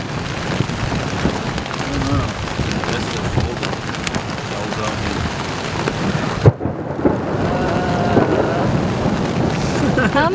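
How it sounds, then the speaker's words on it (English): Heavy rain pours steadily during a nighttime thunderstorm, with rumbling thunder throughout and one sharp, loud crack partway through. "How many thunderstorms is this place gonna have in one day?"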